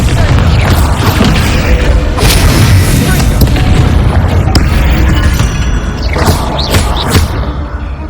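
Bombarda explosion spells in Hogwarts Legacy, loud booming blasts with mechanical clatter and crashes, layered over continuous dense game noise and combat effects.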